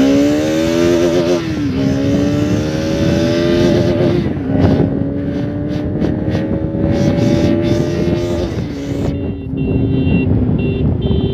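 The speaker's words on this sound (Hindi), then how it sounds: "नहीं तो अच्छा खासा रफ्तार में बाइक चल गया था गाइस" A motorcycle rides at speed on a road, its engine droning loud and close, pitch rising and falling with gear changes and throttle, with wind rush throughout.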